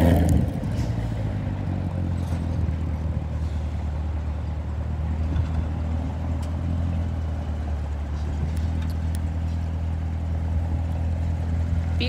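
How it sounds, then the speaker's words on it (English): A black 2019 Corvette Z06 idles close by, its engine a steady, deep rumble with a low throbbing pulse that holds evenly for twelve seconds, loud and alone with no voices. "This is a 2019 Corvette"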